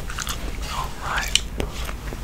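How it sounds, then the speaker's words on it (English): Close, wet chewing of peppermint gum with soft smacks and clicks, a faint whisper-like breathiness underneath during a relaxing football video game session. "I've also got some peppermint cobalt gum I'll be working on today while we play."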